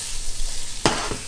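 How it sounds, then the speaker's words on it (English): Carrots sizzle in melted butter in a pan, a steady close hiss broken by a sharp rustling burst as they are tossed. "We'll just toss them off in the butter there."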